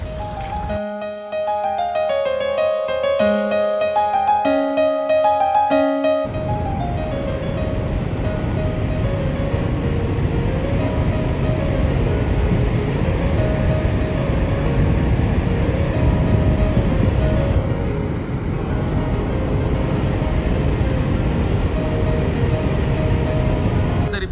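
Pressurized water rushing through the Sardar Sarovar dam in Gujarat, a loud steady roar lasting throughout, with a tonal melody playing over it at the start before the roar takes over.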